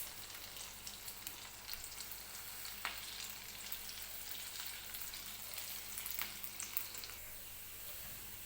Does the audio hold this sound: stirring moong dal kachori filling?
yes